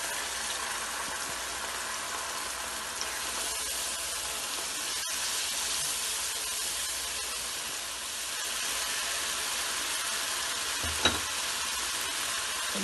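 Spices frying in a pan for palak gosht, a long steady sizzle heard close up, broken by occasional stirring taps and one sharp knock near the end, with no voices.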